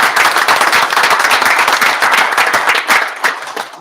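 Applause at an academic extracurricular committee meeting: a room full of people clapping steadily and fairly loudly throughout, with dense overlapping claps and no talking.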